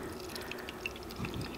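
Coconut water pours into ice-pop molds for a Filipino halo-halo dessert, giving soft, faint trickling and dripping over a low kitchen background, with a slightly fuller splash near the end.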